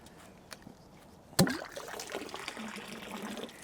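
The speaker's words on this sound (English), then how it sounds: "is all the fresh water that comes from the spring, and I have it all the year, also in summer, also in September." Fresh spring water at an off-grid forest home trickles and splashes softly after a sharp knock, a faint, irregular liquid patter close by.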